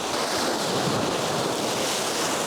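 Waves splashing against rocks, a loud continuous broadband rush of churning water and spray, close and unbroken, with wind noise buffeting the microphone and no voices.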